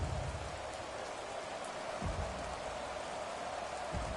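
Rain pours steadily in a PS4 football game at a virtual Nissan Stadium in Nashville, a continuous dense hiss of falling drops with faint low rumbles beneath, with no voices.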